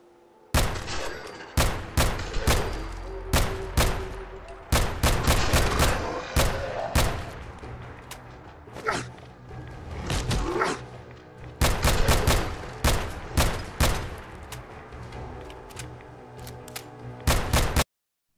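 Rapid bursts of gunfire from a modded weapon in Fallout 4, loud and close, with volleys of repeated shots separated by short pauses and no talk.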